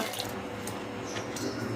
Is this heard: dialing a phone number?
no